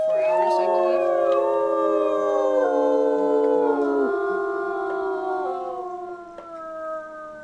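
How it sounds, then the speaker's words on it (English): Several wolves howl together in WolfQuest, long overlapping rising and falling tones sustained loudly for several seconds before tapering off. "We're gonna do a howl."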